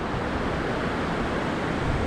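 Sea waves churning at the shore, a dense, continuous wash of surf that stays loud and steady throughout.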